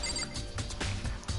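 A telephone rings in the visual-novel game Danganronpa: Trigger Happy Havoc, a short repeating electronic bell with faint background music, no voices.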